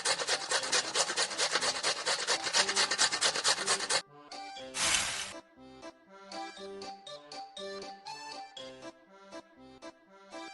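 Cheese is grated in a Masha and the Bear pizza-making video game, a fast rasping rhythm of dense strokes for four seconds, followed by a swish and then light cartoon music.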